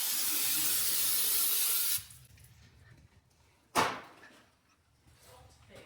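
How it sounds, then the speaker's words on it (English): Brake cleaner sprayed liberally on the intercooler of a Honda Z UM4 turbo kei car, a loud steady hiss lasting about two seconds, followed by quiet handling noises and one sharp knock. "Apply brake clean liberally."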